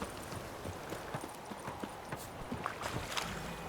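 Roach the horse trotting in The Witcher 3, a quick, even run of hoof clip-clops on the ground, fairly quiet and close, with no talk.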